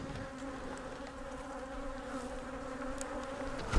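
Honey bees swarm around a beehive, their steady droning buzz humming continuously and fairly softly nearby, with no voices over it.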